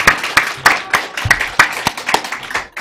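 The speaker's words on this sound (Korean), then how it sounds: "우리 박수하겠습니다" A congregation at a Sunday youth worship service claps in a steady, fairly loud rhythm, roughly a dozen distinct claps in under three seconds, heard close up.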